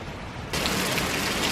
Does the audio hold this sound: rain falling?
yes